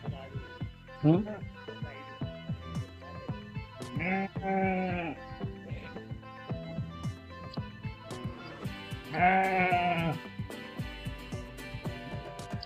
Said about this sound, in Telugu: చూడండి గొర్రెపోతులు